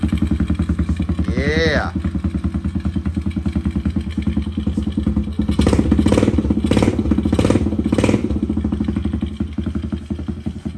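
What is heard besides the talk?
Kawasaki KLX110 pit bike engine exhaust running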